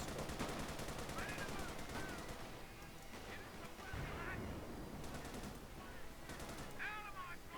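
Rapid bursts of World War I battlefield gunfire crack out after a shouted order to fire, mixed with dense explosions, shouting and chaotic combat noise throughout.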